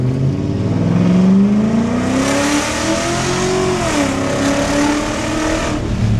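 BMW E39 5 Series sedan, an abandoned car being revived, with its engine revving up loudly and sweeping through a rising then falling pitch, steady and close with no talking.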